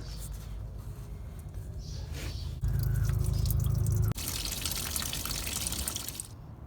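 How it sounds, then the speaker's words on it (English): Engine coolant draining from a 2014-2018 Chevrolet Silverado or GMC Sierra truck during a thermostat replacement, a continuous close splashing pour that swells louder midway, then drops back to a steady trickling stream. "once you loosen it up, you'll start to see coolant coming down"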